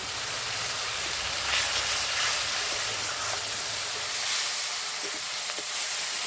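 Ground spices (turmeric, cumin, chili, coriander) frying in oil for a pangas fish curry, a steady bright sizzle with soft crackles and no voices, fairly loud and even throughout.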